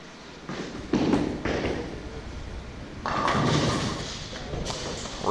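Bowling ball crashing into the pin rack during a televised professional match, a loud clattering burst of scattering pins around the one-second mark, with a second rattling spell later and crowd ambience throughout.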